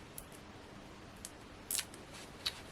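Scissors cut through card for a Hunkydory wedding card, a few quiet, crisp snips, close by, spaced irregularly in near silence.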